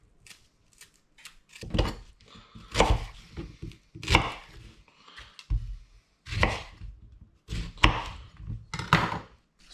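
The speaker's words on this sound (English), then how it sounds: "what I'm going to do is going to cut up all our ingredients" A knife chops fresh ingredients on a board for a pot to boil cuttlefish, in uneven bursts of several quick close cuts separated by short pauses.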